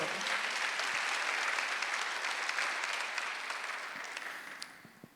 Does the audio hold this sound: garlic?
no